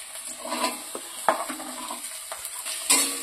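Finely chopped onions fried and stirred in a pan with nigella seeds, steady sizzling of oil beneath repeated scraping strokes of a spatula, close and without talk.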